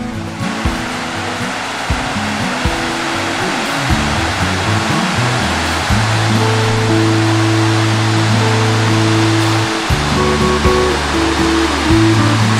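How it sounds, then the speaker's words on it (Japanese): Large waterfall at Yokoya Gorge pouring down in a broad, steady roar of rushing water, loud and continuous, with some low, hum-like tonal sounds underneath. "大滝、 ほら下の方までずっと流れんだね。"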